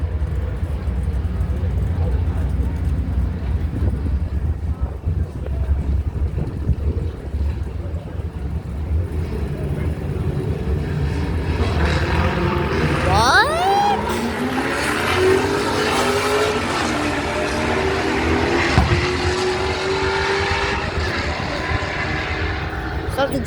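Camaro and Nova cars drag racing at a car show, a loud, sustained engine roar that builds into a rising, revving howl as the cars launch, with spectators talking over it.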